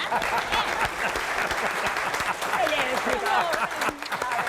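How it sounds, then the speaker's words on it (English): An audience applauds show hosts Jack Harris and Kim Goddard on a TV talk show set, steady, dense clapping filling the room with cheers mixed in, loud and close throughout. "Let's have a nice round of applause"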